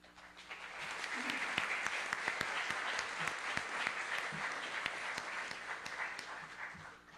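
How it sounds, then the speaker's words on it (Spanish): An audience at a computing panel discussion bursts into sustained applause, dense many-handed clapping that swells quickly, holds steadily and fades at the end. "Démosle un aplauso."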